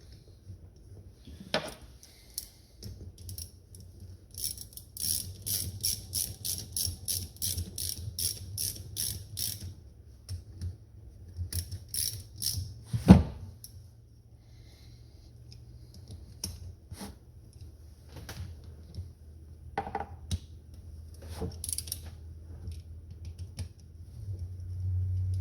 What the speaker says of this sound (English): Tighten them down, not too tight, but it looked tight enough.